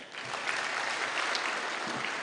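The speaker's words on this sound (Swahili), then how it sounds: "Pigie makofi hawa." A crowd at a public security forum in Nakuru County breaks into applause, a short burst of dense, steady clapping filling the moment without speech.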